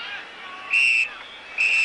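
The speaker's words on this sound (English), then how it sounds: "There's the whistle." A referee's whistle ends a professional soccer match, the New York Cosmos against the Dallas Tornado in an American stadium, with two shrill blasts over a distant crowd and a faint announcer's voice.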